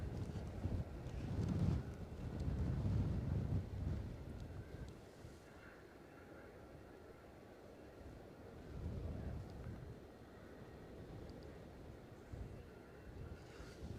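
Strong gusty wind buffets an outdoor microphone at Edinburgh airport, a heavy low rumble that swells loudly in the first few seconds, eases, then surges again around the ninth second and keeps blowing throughout.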